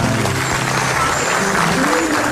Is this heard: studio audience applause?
yes